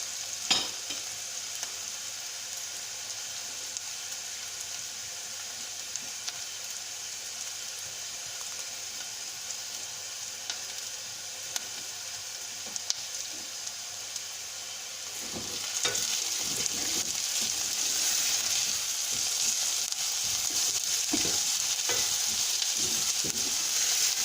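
Garlic fries in a pan with a continuous bright sizzle, growing louder partway through as stirring adds scraping and shuffling sounds.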